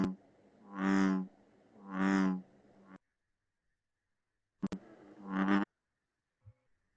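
A West Virginia bullfrog's deep, moo-like call: three drawn-out resonant croaks, two close together and a third after a silent gap, each swelling and fading, with a faint click between them.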